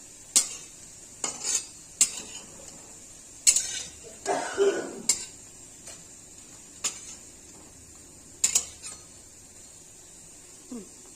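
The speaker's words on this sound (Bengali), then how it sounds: "প্রত্যেকটা বড়া সুন্দর করে ভাজা হয়েছে" Coriander, coconut and red lentil fritters frying in oil, a quiet background sizzle broken by sharp metal spatula clinks and scrapes at irregular intervals, close by and with no speech.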